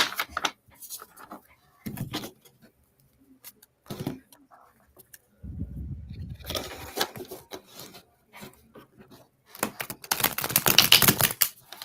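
Tarot cards are shuffled in bursts of crisp riffling and flapping, with short clattering runs separated by quiet gaps and a longer, louder shuffle near the end.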